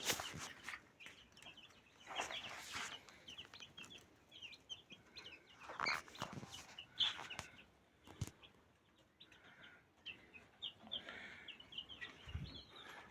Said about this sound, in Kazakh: Балапандарым ашылып жатыр.